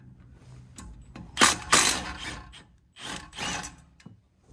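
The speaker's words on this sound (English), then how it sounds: "luckily I have a 3/8 gun, makes life easier" Two loud bursts from a 3/8-inch air impact gun spinning out the 13 mm caliper bracket bolts on a 2020 BMW X3 during a brake job, each a short rattling whir followed by a pause, with no talk over it.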